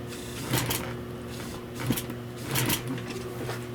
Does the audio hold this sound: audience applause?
no